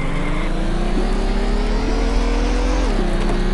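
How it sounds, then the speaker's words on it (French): A video game car engine drones steadily at high revs, its pitch climbing gradually and then dropping suddenly as a gear shifts, with a continuous loud tone and no talking. "Man, on entend changer des vitesses."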